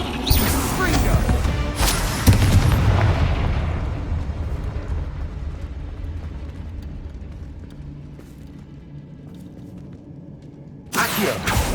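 Fiery spell blasts in the Hogwarts Legacy video game: a loud explosive burst opens, a second booming hit follows, then a long rumbling decay before another sharp blast near the end.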